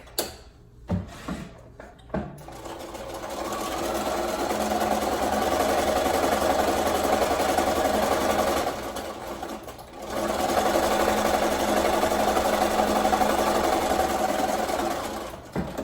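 A sewing machine runs in a long steady burst stitching small fabric pieces for a patchwork pumpkin quilt block, briefly pausing midway before resuming, preceded by a few short clicks and handling noises; close and alone.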